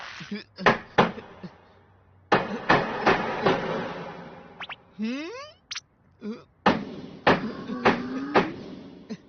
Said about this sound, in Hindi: याद रखो, हथौड़ा चलाते वक्त अपनी कलाई का इस्तेमाल मत करो, पूरे हाथ का इस्तेमाल करो।